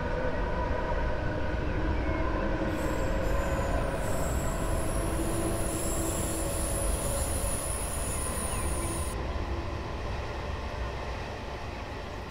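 A Tohoku and Utsunomiya Line commuter train in Train Simulator Classic rumbles steadily and without a break, with high, sustained wheel squeals ringing over the rolling noise the whole time.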